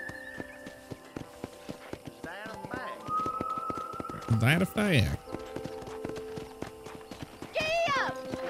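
Horse hooves clip-clopping in a steady gallop on a ranch in the Red Dead Redemption video game, close and rhythmic, with whinnies, swooping game sounds and brief talk layered over the beat.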